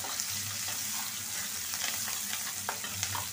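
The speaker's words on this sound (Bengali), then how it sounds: "তেলটা গরম হয়ে গেছে, দিলাম পেঁয়াজ, কাঁচামরিচ, পেঁয়াজ কুচি দিয়ে দিলাম।" Chopped onions and green chilies frying in hot oil for a rohu fish curry, a steady soft sizzle with light stirring scrapes and small clicks, fairly quiet and with no talking.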